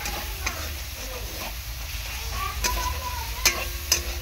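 Turmeric and chilli powder sizzling in oil in a pan for a jackfruit and prawn curry, a low steady fry with a few sharp spoon clicks and scrapes.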